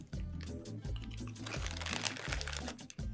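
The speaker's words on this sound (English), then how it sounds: "I love the crunchiness of a Dorito" Flamin' Hot Dorito corn chips crunch close to the mouth in a quick series of sharp, brittle bites and crackles, loud and right up near the listener, with no speech over them.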